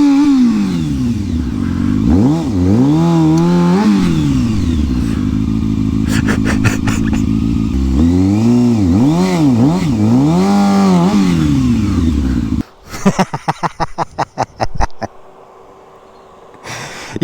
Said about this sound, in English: I'm hoping I can even do a burnout